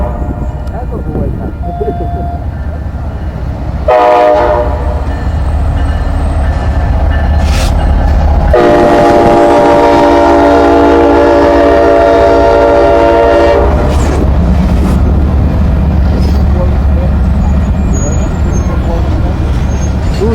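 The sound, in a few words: freight train with extra long boxcars passing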